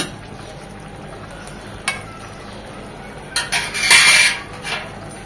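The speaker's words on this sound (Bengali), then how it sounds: "এখন আর ঢাকবো না, এমনি পানিটা শুকিয়ে নেব নেড়ে চেড়ে কিছুক্ষণ পর।" Pui shak (Malabar spinach) cooks with dried fish in a pan under a low, constant sizzle. A single utensil clink comes early, then a louder flurry of spatula scraping and stirring follows, and nobody speaks.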